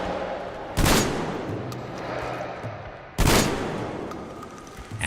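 The Shambler, a jury-rigged shotgun in the video game Metro Exodus, fires two loud, sharp blasts a couple of seconds apart, each followed by a decaying echoing tail over low ambient game sound.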